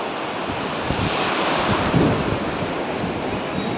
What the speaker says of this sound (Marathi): हा आहे समुद्र